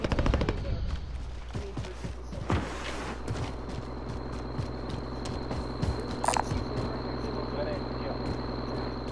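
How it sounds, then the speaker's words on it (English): Enemy gunfire in a multiplayer shooter game, a sharp burst at the start then scattered distant rifle pops and cracks spread across the clip, with player voices talking over it. "Them guys are over there shooting"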